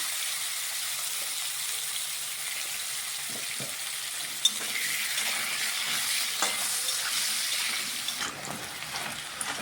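Green plantain frying in hot oil in a home kitchen, a steady bright sizzle that runs throughout, close and fairly loud, with occasional stirring clicks and a sharper crackle midway.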